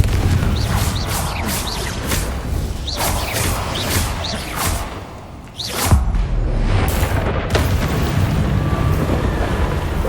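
Confringo fire spell blasts in Hogwarts Legacy, a run of loud booming explosions with whooshing bursts, several sharp hits in quick succession over a dense rumbling backdrop.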